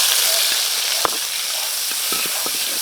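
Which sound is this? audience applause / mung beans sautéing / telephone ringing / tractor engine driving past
mung beans sautéing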